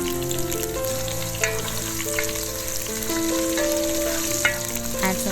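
Sliced onion frying in hot oil with mustard seeds, cardamom, cinnamon, green chili and curry leaves, giving a loud, steady sizzle with occasional stirring scrapes and pops, close and continuous against background music.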